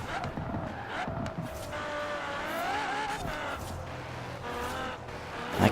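Engines whine and rise in pitch as a heavy truck races Lamborghinis and Ferraris in Forza Horizon 4, with a steady, close engine drone, shifting tones and faint tire noise throughout.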